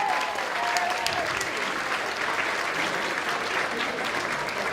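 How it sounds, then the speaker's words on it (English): A crowd at a museum evening event breaks into a full round of applause, loud and continuous, a thick even patter of many hands sustained throughout, with a faint high tone briefly audible near the start. "Let's give her a round of applause and send her back."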